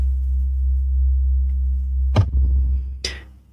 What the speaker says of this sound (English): we're only hearing a sine wave on middle C.